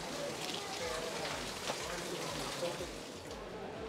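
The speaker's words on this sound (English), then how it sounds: "It is raining." Steady rain falls at Kollur Mookambika Temple, a continuous, fairly faint patter and hiss with no break, and no voices stand out above it.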